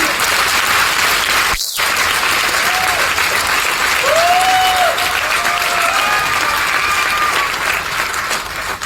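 Sustained crowd clapping fills a hall during a motivational talk, steady and loud throughout, with faint whistle-like tones rising over it midway.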